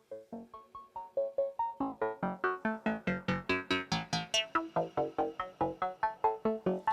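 A buzzy, resonant acid synth patch plays a fast, steady sequence of short plucked notes, brightening and opening up in tone before settling back, with no voices.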